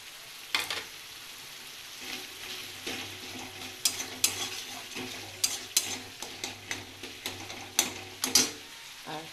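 Chopped tomatoes hit a frying fish curry in a pan and sizzle softly, while a utensil scrapes and stirs in quick irregular strokes close by.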